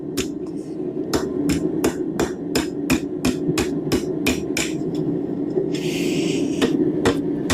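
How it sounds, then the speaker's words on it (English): Steady hammer blows on metal while forging a hook, about twenty sharp, evenly spaced ringing strikes close up, with a brief hiss or scrape partway through and no talking. "we're gonna start hammering"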